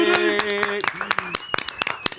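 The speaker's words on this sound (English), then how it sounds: "Let's give a big welcome and a big round of applause to the one and only Jacob Schmidt" Studio audience clapping in a round of applause for a guest on a talk show, a scattered run of sharp claps, moderately loud, with a host's voice over the start.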